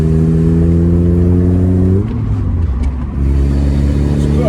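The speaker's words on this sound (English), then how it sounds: "It's got a nice wee rasp off the exhaust." A Mazda MX-5 Miata lowered on BC Racing coilovers, recorded while driving: a loud, raspy exhaust note climbs steadily under acceleration, dips briefly at a gear change, then picks back up and carries on strongly.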